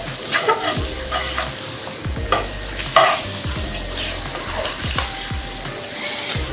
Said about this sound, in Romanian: Acum adăugăm pasta de tomate. Călim împreună, da?